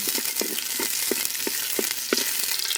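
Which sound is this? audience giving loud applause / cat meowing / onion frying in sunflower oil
onion frying in sunflower oil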